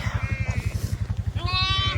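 Sheep bleat twice near a ewe with newborn lambs, wavering cries close by over a steady rhythmic low thumping in the background.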